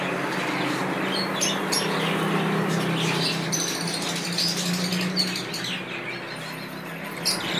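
Soft fluttering of pigeon wings in a large cage mixed with faint chirps and rustling, steady and close, no talking.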